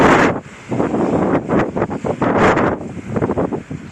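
Strong wind gusts buffet the microphone at an outdoor swimming pool construction site, loud rumbling bursts that surge and ease irregularly over several seconds with no talk.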